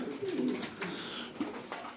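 Pigeons or doves coo in low, soft, throaty calls among a group of newly arrived birds kept for sale, several overlapping coos close by over a faint background hiss.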